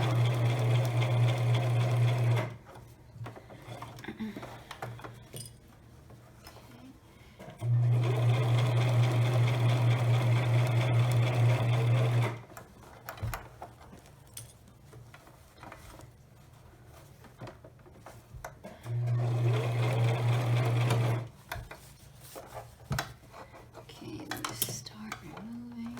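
A sewing machine stitches the lining of an eyeglasses pouch in three loud, steady runs of about three to five seconds, separated by quieter pauses with faint handling noises.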